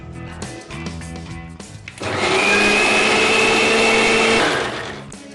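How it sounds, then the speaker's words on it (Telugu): A mixie grinds tamarind, grated coconut, green chillies and salt with a little water for a chutney, switching on partway through as a loud steady whir that runs for about three seconds before winding down. "ఇవి మిక్సీ చేసుకుందాం"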